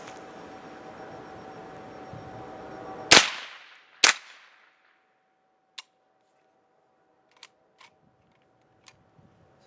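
A Chiappa M4 .22 LR rifle fires two sharp, loud shots about a second apart, followed by several faint, isolated clicks in otherwise quiet surroundings.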